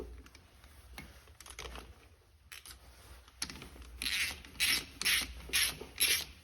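A hand ratchet turns 13 mm bolts off the AC compressor of a 2014 Ford Fusion 1.5L, with a few soft clicks early on, then a run of louder, close, rhythmic clicking bursts near the end; no talking.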